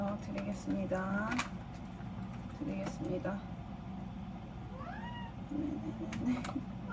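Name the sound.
cat meowing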